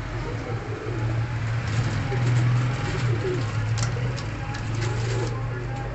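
Johnsiry pigeons coo steadily in low, rolling calls, several birds close by, over a constant background hum with faint distant traffic.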